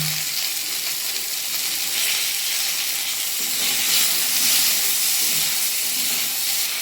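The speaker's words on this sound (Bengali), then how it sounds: "এবারে টমেটোটাও এদের সঙ্গে ছেড়ে দিচ্ছি। দিয়ে ভাজা ভাজা করছি।" Tomatoes sizzle in hot oil in a pan while a Bengali katla fish curry is being cooked, a steady close hiss and crackle running through the whole stretch with no voices.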